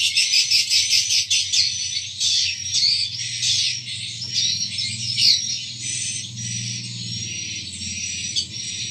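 Swiftlet roosting call for a bird-nest house, played through a speaker: a dense, continuous high chirping twitter that runs steadily throughout with a low hum beneath, fairly loud and with no talk.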